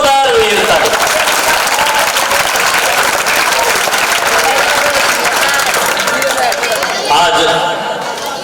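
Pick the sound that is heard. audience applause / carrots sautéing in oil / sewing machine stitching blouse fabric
audience applause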